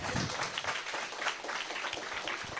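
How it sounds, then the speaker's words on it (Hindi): An audience breaks into applause, a dense, even patter of many hands clapping at moderate distance for a few seconds without a clear pause. "तालियां."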